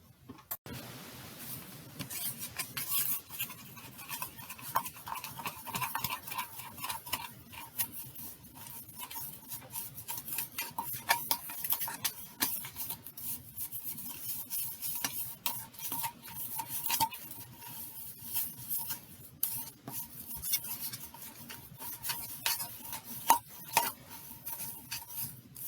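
Dry bath bomb mixture of baking soda, citric acid, salt and oil being stirred and mixed in a bowl, a steady close scraping and clinking texture that continues unbroken with no talk.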